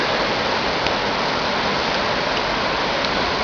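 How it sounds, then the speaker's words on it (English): Steady rain falls during flooding in Loveland, Colorado, a dense, even hiss that holds unbroken and fairly loud throughout, with no voices. "Sad thing is, it's still raining, and it's Friday the 13th."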